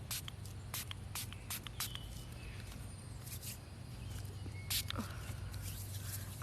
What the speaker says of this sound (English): I'm gonna give everybody a nice spritz